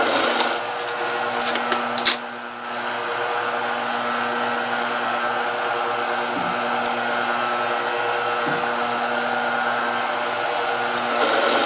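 A sewing machine stitching a knit blouse hums steadily and evenly at close range for the whole stretch, with no talking.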